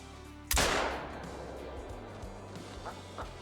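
A single loud rifle gunshot rings out while hunting a buck in the Call of the Wild hunting game, followed by a long decaying echo and faint ambient sounds.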